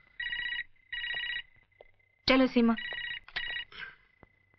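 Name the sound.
telephone ringing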